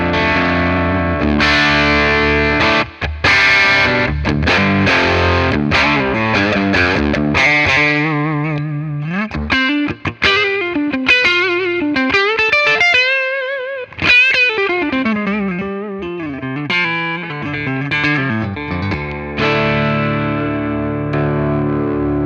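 Electric guitar played through the lead channel of a BOSS Nextone amp, heavily distorted and sustained, with bending lead lines and chords up close, loud and continuous with no talking.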